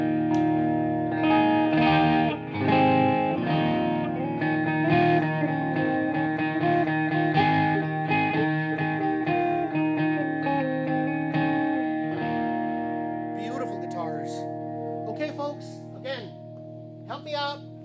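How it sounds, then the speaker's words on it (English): An overdriven Danelectro electric guitar plays sustained, gritty chords with ringing harmonics, loud and close, with some string noise and a few bright plucked notes near the end. "That's just the overdrive on the amps."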